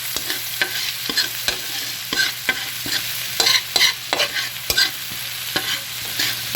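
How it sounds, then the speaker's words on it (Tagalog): Water spinach (kangkong) sautéed with onion in a hot pan gives a steady close sizzle, punctuated by repeated sharp scrapes and clacks of a utensil stirring through the greens. "Hulog natin. Yan. Gisa-gisa lang."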